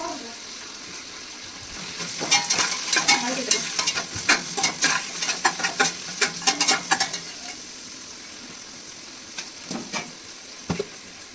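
Green chillies fry in a pan while being stirred for a homemade chicken biryani, with a soft background sizzle broken by a fast run of sharp scraping spoon strokes, then a few isolated scrapes.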